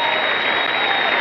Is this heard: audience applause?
yes